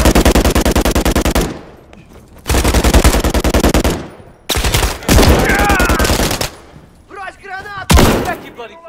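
Loud, close automatic gunfire in a Call of Duty game: rapid full-auto bursts broken by short gaps, with a voice briefly heard toward the end.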